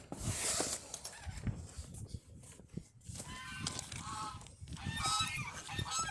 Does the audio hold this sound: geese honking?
yes